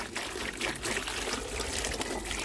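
Water rinses out through the open waste valve of a K1 media filter, a steady close pouring and splashing that runs unbroken with no talk.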